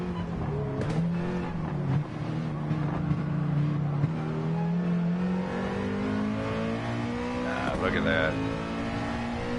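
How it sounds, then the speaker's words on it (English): A 2019 Toyota GR Supra with a turbo engine races in a video game, its engine droning loud and steady, then climbing in pitch as it revs up, with someone talking briefly over it. "That's just a 2019 GR Supra, low RPM turbo"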